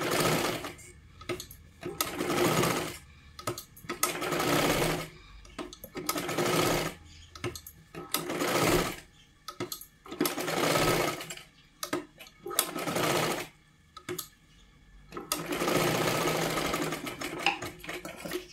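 A sewing machine stitches a katori blouse in bursts of rapid mechanical whirring, about eight runs of a second or two each, separated by short pauses, close and fairly clear.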